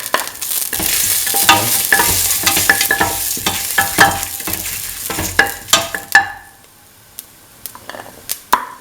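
Fennel seeds and red chili fry in hot oil for a curried split chickpea rice dish, a loud crackling sizzle with sharp pops and stirring scrapes that thins to scattered crackles near the end.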